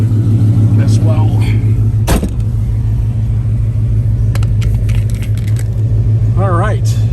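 A 2002 Chevrolet Camaro Z/28 driving, with a steady low engine rumble throughout, a brief sharp knock near the start and faint rattles and a tonal whine over the drone.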